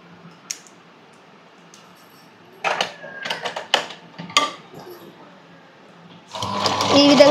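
A sewing machine stitches a puff sleeve on a blouse in short bursts of rapid mechanical clicking, starting and stopping several times, then running more steadily near the end.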